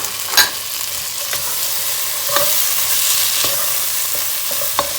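Tomatoes sizzle and fry steadily in tomato paste in a pot, punctuated by a few sharp clinks and scrapes of stirring.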